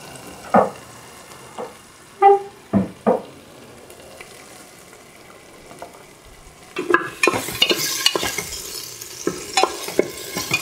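Spoon stirring ginger garlic paste and cumin in a frying pan, a few scattered scrapes and knocks followed by a rising sizzle with brisk stirring, close up and without talk.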